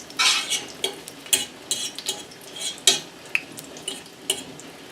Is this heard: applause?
no